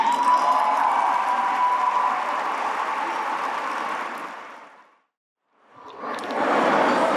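Audience applause at the 2024 Outstanding 50 Asian Americans in Business award dinner, a dense sustained wash of clapping that fades to near silence around five seconds, then swells back loudly.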